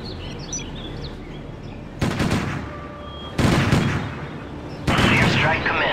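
Gunfire in the real-time strategy game Act of War erupts in three sharp volleys over distant ambient battle noise, each burst loud and abrupt with rattling shots.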